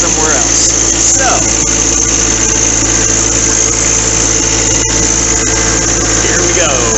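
A new John Deere 4x4 tractor engine runs steadily close by, a constant low mechanical drone with vibration, while a person talks over it now and then.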